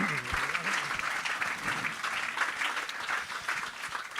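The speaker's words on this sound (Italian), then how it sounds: "fatevi un applauso" Audience applause in an Italian public gathering, dense steady clapping from many hands filling the whole stretch, with faint voices briefly audible near the start.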